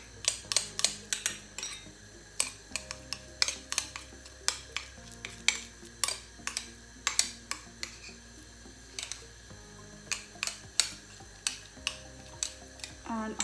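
A spoon mixes chopped coriander in a bowl for a chilli cheese toast, giving repeated sharp clinks and taps against the bowl in an uneven rhythm, close and quiet.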